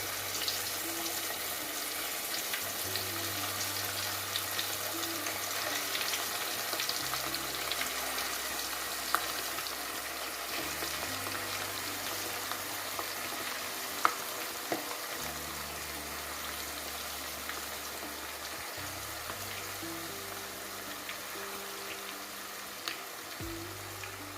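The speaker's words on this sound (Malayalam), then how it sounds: "ഇനി നമുക്ക് കുറച്ച് കുറച്ചായിട്ട് നേരത്തെ എടുത്ത് വെച്ച ചിക്കൻ്റെ പീസ് എണ്ണയിലോട്ടിടാം" Chicken pieces fry in hot oil for chilli chicken, giving a steady, fairly quiet sizzle and crackle that holds evenly throughout with no talking.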